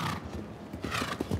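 Show jumping horse cantering around an arena in a Global Champions League playoff in Prague, its hooves thudding in a steady rhythm that sounds close and fairly loud, with no talk.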